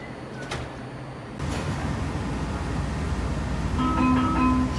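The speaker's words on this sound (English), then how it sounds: "Step back, doors closing." WMATA Metrorail Silver Line train at a station, with faint rail rumble and clatter, then a brief two-tone door chime near the end, heard from inside the car.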